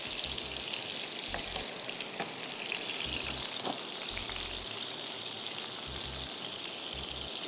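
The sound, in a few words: hot tadka poured over mutton pulao, sizzling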